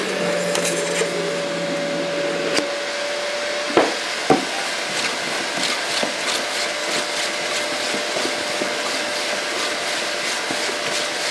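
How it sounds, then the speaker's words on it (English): Vacuum motor of a simple shop vacuum clamp holding a piece of wood, a steady loud broadband whooshing drone throughout, with a couple of sharp knocks and faint tapping over it. "You can hear the vacuums working just a little bit harder"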